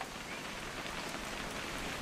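Steady rain falls throughout in the video game What Remains of Edith Finch, a dense, even hiss of drops on surfaces heard alone at a soft, constant level.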